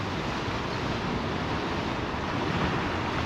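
Wild North Sea surf crashing against the shore where land meets the sea, a steady, loud roar of breaking water mixed with wind buffeting the microphone, with no speech.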